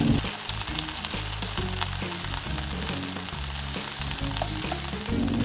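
Leftover taco meat with taco seasoning, onions and garlic fries in olive oil in a pan, a steady, close sizzle with crackling pops and some stirring, with no voices.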